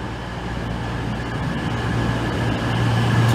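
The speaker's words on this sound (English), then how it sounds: "the 1551 cross-country service from Bristol Temple Meads to Newcastle" A CrossCountry passenger train of four carriages on the Bristol Temple Meads to Newcastle service rumbles past as a steady, fairly loud low drone that swells slightly, with no talk over it.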